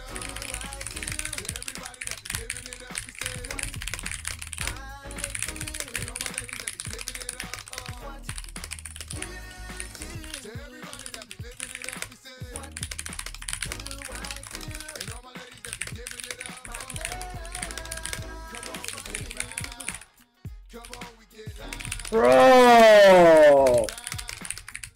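Rapid typing on a small computer keyboard, a dense, steady patter of close key clicks that runs on for most of the stretch, briefly cut off near the end by a loud burst of voice.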